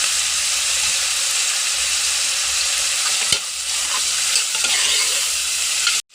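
Ginger and garlic sauté in a hot pan for a beef dish, giving a loud, steady close sizzle with occasional stirring scrapes, ending abruptly.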